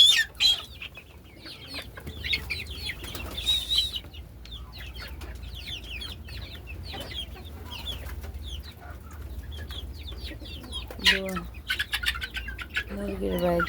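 Desi chickens cluck and squawk while scuffling with one another, bursts of agitated clucking and chirps over a low hum, with a person's voice briefly heard.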